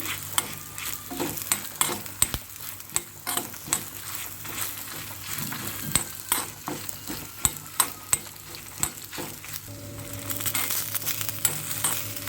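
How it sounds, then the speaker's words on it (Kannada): Spice masala fries in a pan while a spoon stirs it, giving a soft sizzle beneath repeated scraping strokes and sharp clicks against the metal, with a steadier hiss rising near the end. "ನೋಡಿ ಚೆನ್ನಾಗಿ ಮಸಾಲೆ ಎಲ್ಲ ಫ್ರೈ ಆಗಿದೆ"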